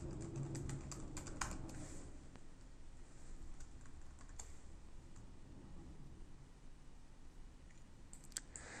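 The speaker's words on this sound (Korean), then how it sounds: "타이핑을 해보겠습니다." Continuous clicking of a computer keyboard during coding in the X Platform development environment, with steady close-up typing at an even, quiet level throughout and no talking.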